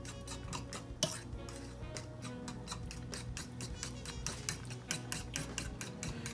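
Breakfast casserole ingredients being stirred together in a bowl, a steady run of quick rhythmic clinks and scrapes of utensil against the dish, close up with no talking.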